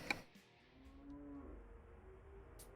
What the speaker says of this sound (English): I hear the cattle.